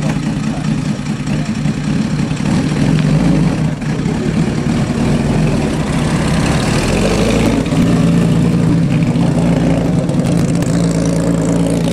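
A 1950s Jaguar D-type race car engine runs nearby with a loud, steady mechanical drone and low rumble that holds throughout without pause.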